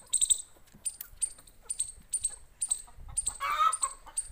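Chickens on a small village poultry farm cluck repeatedly and close by, in short rhythmic bursts with a few louder squawks near the end.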